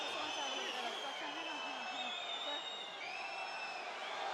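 Stadium crowd at a women's rugby match between England and France, a sustained roar of many voices with whistles and jeers, loud and continuous under a commentator's voice.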